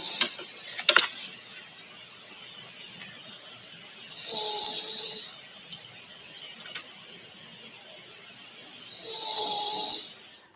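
A sleeping pet gives soft snores, about two faint breathy rasps spread across the stretch, alone in a quiet room with small ticks and clicks between them.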